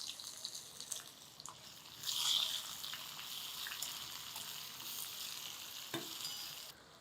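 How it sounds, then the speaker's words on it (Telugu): Onion pieces fry and sizzle in hot tempering oil with asafoetida for a Telugu greens-tamarind stew, a steady close hiss that swells as they hit the pan, with occasional stirring and no talk. "ఉల్లిపాయ ముక్కలు వేసేద్దాము."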